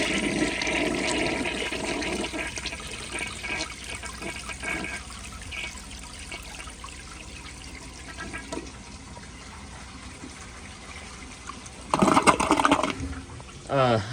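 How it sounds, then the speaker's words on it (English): A 1975 Kohler Highline toilet flushes with a full, rushing swirl of water that settles into a steady draining wash, then a louder gurgling siphon surge near the end, heard close up with no talking. "Here is another flush."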